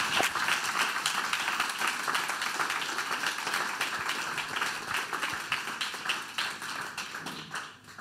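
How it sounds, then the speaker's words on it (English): A live podcast audience gives a warm round of applause for guests, steady dense clapping at a moderate distance that holds for several seconds and tapers off at the close, with no talking over it. "a big, round, warm round, my brain's broken, of applause for Inia Raumati and Vicky."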